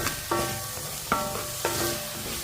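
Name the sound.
sautéing chopped tomatoes in a pan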